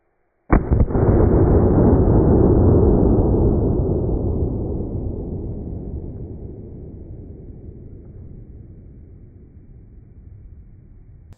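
A single sharp report from a Glock 17 pistol fired with a squib load, loud and close, followed by a long decaying rumble that fades slowly over about ten seconds.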